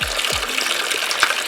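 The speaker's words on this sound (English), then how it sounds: "I filled up the sink with some really hot water" Very hot water from a tap filling a sink in a barn tack-cleaning area: a steady, loud, close gushing and splashing stream continuous throughout, with no talk.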